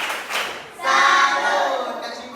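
A group gives a 'tepuk salut' salute clap together, a dense, sustained burst of claps that swells in after a brief softer patch and holds steady to the end.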